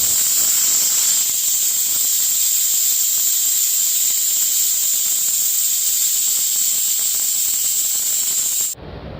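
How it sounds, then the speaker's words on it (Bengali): A pressure cooker whistle releasing steam in one continuous, loud, high hiss that holds steady for about nine seconds before cutting off abruptly. "প্রেশার কুকারের সিটি পড়ে গেছে দেখতে পেলে"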